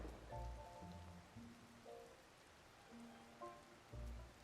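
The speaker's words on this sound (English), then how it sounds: "I suppose it's raining, but what's that to a garden?" Soft rain falls in the game Tears of the Kingdom, a faint, steady patter spread over a quiet background, with gentle musical tones drifting in and out and no talking.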